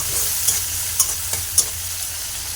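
Prawns frying in a pan with salt, a close, even sizzle punctuated by four or five sharp clicks and scrapes of a spatula stirring, no voices.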